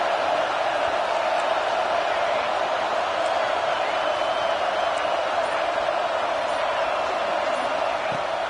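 A football stadium crowd roars in a dense, unbroken wall of noise that holds at a steady loud level throughout, with no single voice standing out.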